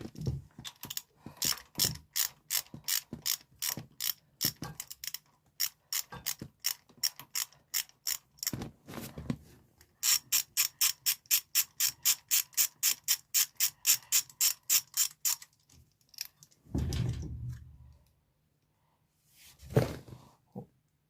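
A hand wrench works on an exhaust nut of a Triumph Street Triple 765R motorcycle, giving fast bursts of crisp ratchet clicks that pause and resume, with a couple of duller knocks near the end.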